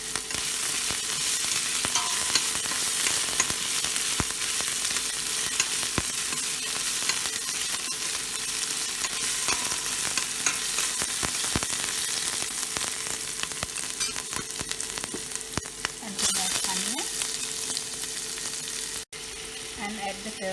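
Onions sizzle steadily in a hot pan, with a continuous close frying hiss and occasional scraping as they are stirred, cooked for a kangkong (water spinach) side dish.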